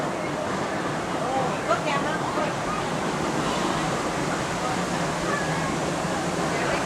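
Artificial whitewater rapids of Thunder River at Six Flags St. Louis make a steady, broad rushing roar, with a voice talking over the water and faint background chatter.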